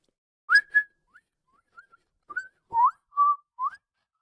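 A person whistles short chirpy notes in imitation of a video game character who has no voice lines, a string of about eight quick bright blips and slides with gaps between them, alone and close.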